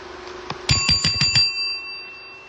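A bicycle bell rings in a quick burst of about five clear, close metallic dings, its tone lingering briefly afterward over quiet background.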